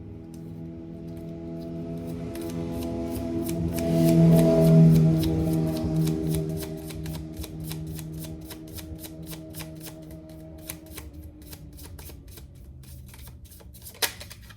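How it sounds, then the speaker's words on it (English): A deck of cards being handled and shuffled, starting with a swelling riffling rush and then a long train of quick, crisp card flicks that slow and thin out, close and alone with no voices. "So let me get out all the rest of the cards"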